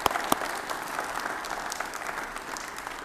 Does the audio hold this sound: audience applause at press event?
yes